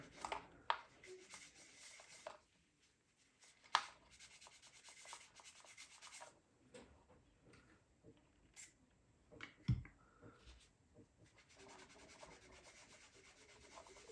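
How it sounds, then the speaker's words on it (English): Scrubbing on a part of a Traxxas Maxx RC car to clear residue, a close, dry rubbing and sanding sound in uneven strokes with short pauses and a few sharp knocks. "If I scrub at it a little more."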